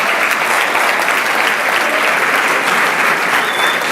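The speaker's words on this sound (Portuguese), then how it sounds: "Esta merece só uma salva de palmas" An audience at a presentation event gives loud, sustained, even applause that stays dense and full for the whole stretch.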